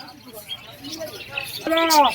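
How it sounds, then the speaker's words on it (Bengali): Budgerigars and cockatiels at a pigeon and bird market in Krishnanagar, with a few short chirps and a clear rising tweet near the end, mixed in with nearby talking. "এখানে কিছু বদ্রি পাখির কালেকশন রয়েছে বিভিন্ন রকম কালারের মধ্যে বিভিন্ন রকম দামের মধ্যে বদ্রি বা বাজিগড় পাখি যারা আপনারা বলেন ককাটেল"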